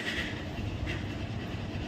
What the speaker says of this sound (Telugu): వందే భారత్ అయితే వెళ్తుంది, అందుకే రికార్డ్ చేస్తున్నా